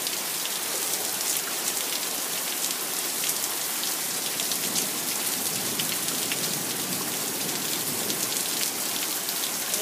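Heavy rain in Edmonton overwhelms the rain gutters, a steady, dense, loud hiss of downpour with constant spattering on surfaces and no pauses.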